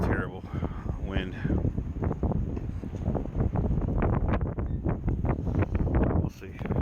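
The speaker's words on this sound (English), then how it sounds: "Terrible wind." Strong outdoor wind buffets the microphone in a continuous loud rumble and roar during work on a 1941–1951 Ford F1 rat rod truck build, with someone talking underneath.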